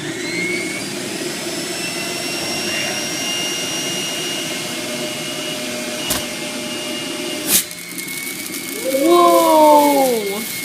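An electric juicer motor cranked up and running with a loud, steady mechanical whine, a couple of sharp knocks partway through, and the pitch wavering near the end.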